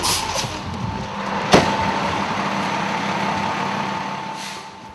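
Fire engine idling steadily at an emergency scene, a continuous loud diesel rumble with one sharp clank partway through and no talking.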